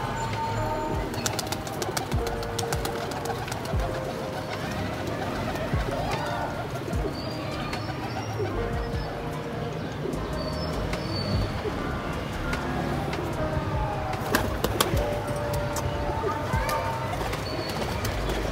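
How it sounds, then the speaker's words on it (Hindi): Pigeons coo softly and repeatedly nearby, with occasional chirps from other birds and a person talking over them. "ये कबूतर है दोस्तों"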